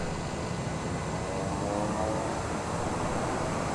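A TBM 930 turboprop roars in reverse thrust just after landing, a loud, steady, broadband engine rush heard from inside the cabin that holds evenly throughout.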